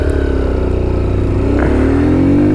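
A Kawasaki Z125 Pro motorcycle held at full throttle in first gear, its small engine droning loud and close with a steady rising pitch and no pause across the whole stretch.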